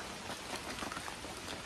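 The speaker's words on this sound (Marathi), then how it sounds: "सो मस्तपैकी पाऊस पडतोय" Steady rain falls outdoors in a soft, even patter of dense droplets, fairly quiet and continuous without pauses.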